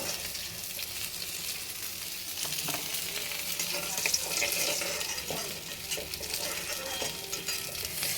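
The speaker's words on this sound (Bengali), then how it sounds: "মোটামুটি মাছ ভাজা হয়ে এসছে আমি এবার নামিয়ে দেব" Continuous crackling sizzle of fish frying in oil, close and steady, with occasional scraping of a utensil in the pan.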